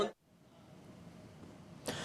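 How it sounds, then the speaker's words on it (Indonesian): A single person coughs once at the start, a short sharp burst, followed by quiet room tone and a faint breath or throat noise near the end, with no talking. "Saya batuk loh gara-gara itu."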